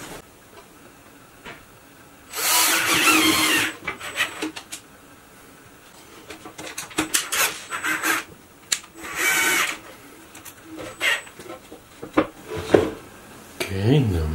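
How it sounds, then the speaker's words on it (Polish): A power drill drives screws into wood while building a DIY modelling paint-spray extractor, sounding in several separate whirring bursts of a second or so, close and fairly loud, with quiet handling noises and a little speech in between. "I teraz złapię wkrętami w kilku miejscach."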